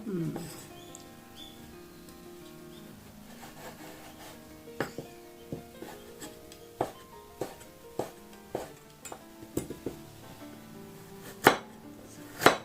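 A knife thinly slices gobo (burdock root) on a cutting board, with crisp, evenly spaced cuts and taps that grow louder toward the end over a faint steady tonal hum.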